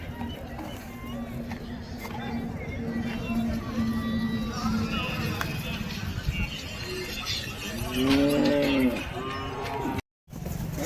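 Native cattle at the Vaniyambadi cattle market stand amid constant crowd hubbub and background chatter, with one clear, drawn-out moo rising near the end.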